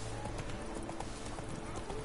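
Horse hooves clip-clopping along a road in The Witcher video game, a steady rhythmic trot heard close under game background sound.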